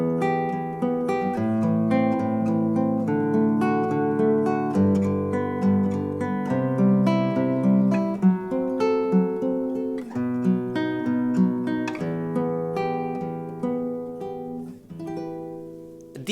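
Fingerstyle acoustic guitar picking arpeggios over open chords that move in descending fifths around the circle, a continuous ringing flow of plucked notes with steady rhythm, played alone and up close.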